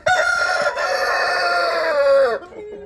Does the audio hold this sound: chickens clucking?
yes